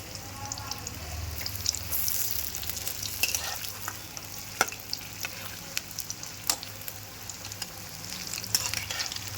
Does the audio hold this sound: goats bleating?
no